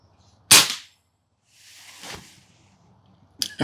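An FX Impact M4 air rifle fires rapid shots in a field test. Three sharp, loud cracks come at uneven intervals, each a short snap that fades quickly, with near silence between them.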